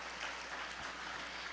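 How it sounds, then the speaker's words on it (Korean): A church congregation applauds the choir after a Sunday service, steady dense clapping filling the room for a moment with no voices on top. "성가대 전체 박수로 한번 격려해 주시기 바랍니다"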